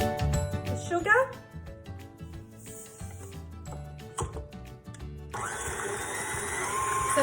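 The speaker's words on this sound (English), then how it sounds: "So beat the egg and sugar together until it's nice and light and fluffy." An electric hand mixer whirs into a bowl of egg and sugar for Italian almond biscuits, starting midway and running loud and steady to the end under a speaking voice.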